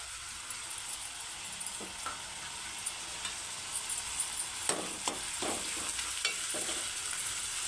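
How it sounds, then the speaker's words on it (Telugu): Three large chopped onions frying in a pan until browned, a soft, steady sizzle with occasional clinks and scrapes of a stirring spoon, no voices. "బ్రౌన్ కలర్ వచ్చిన దాకైతే వేయించుకుందాం ఆనియన్స్ అయితే బ్రౌన్ కలర్ వచ్చేసాయి"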